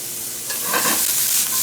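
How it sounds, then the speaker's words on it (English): Pancetta and rapini sizzling in olive oil in a pan, a steady close hiss that swells briefly midway as the food is stirred, with no talk. "While that's sauteing, I'm going to add a little bit more olive oil."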